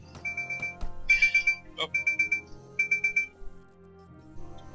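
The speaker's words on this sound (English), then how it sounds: "There's our timer." Timer alarm in Mount and Blade: Warband, repeated bursts of rapid beeping in quick pulsed groups, loud and close, with a brief spoken exclamation in between.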